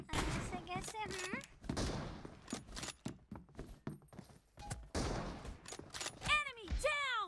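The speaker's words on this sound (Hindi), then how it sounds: "ये बेचारा पता नहीं है अंधे फायर कर रहा है" Gunfire in a mobile battle royale game (PUBG Mobile/Free Fire): repeated sharp bursts of shots, some in quick strings, mixed with game effects, heard under near-constant excited talk.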